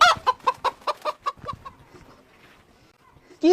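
Chickens on a farm plot give a quick rhythmic run of about eight close clucks that taper off into quiet, followed by a sharp fresh squawk at the very end.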